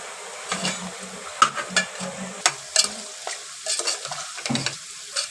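Mutton bones and chili powder are stirred in a pan with quick, uneven scraping strokes of a spoon over a light sizzle, close and fairly quiet.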